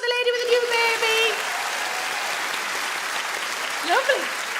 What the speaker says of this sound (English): Round of applause for the lady with the new baby